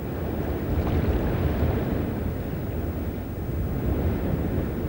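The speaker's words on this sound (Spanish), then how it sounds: "Se trata del flujo y reflujo de la marea" Tidal water surging through the Urdaibai estuary marshes, a steady, dense rush of flowing water and surf-like wash close by, continuous and broadband with a faint windy roar and no voices.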